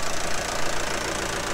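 A farm tractor, used with a fertilizer spreader, runs steadily close up, a loud continuous engine drone without pauses or changes in pitch.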